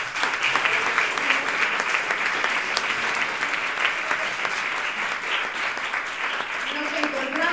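Sustained applause from a graduation ceremony audience honoring classmates, a loud continuous wash of many hands clapping with a faint crowd murmur beneath, steady and close for several seconds.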